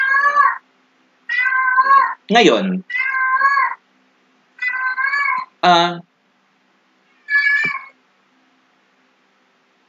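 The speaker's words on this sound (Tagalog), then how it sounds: "Nagising yung pusa ko." A house cat meows repeatedly and loudly close by, about half a dozen separate calls with pauses between them, some drawn out and wailing, and a brief spoken word in between.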